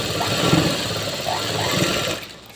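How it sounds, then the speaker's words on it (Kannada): A sewing machine runs steadily, stitching blouse fabric in a continuous whir that fades out near the end. "ಇದ್ರ ಮೇಲೆ ಕೂಡ ಒಂದು ಸ್ಟಿಚ್ ಹಾಕ್ಬಿಡ್ತೀನಿ."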